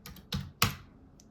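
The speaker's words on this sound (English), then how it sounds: "I seriously cannot type" Three quick keystrokes tap on a computer keyboard while setting up a classic Mac OS upgrade, crisp and close with a brief pause before the last faint click.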